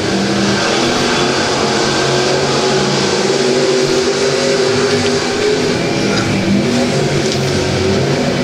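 Stock cars in a heat race at a caged track, a loud, continuous roar of several engines revving and droning together, steady and close throughout.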